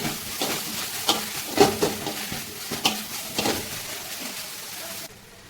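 Vegetables for a vegetable biryani are stirred in a pan with turmeric powder, giving several short scraping and clinking strokes with a soft sizzle underneath, close and moderately loud.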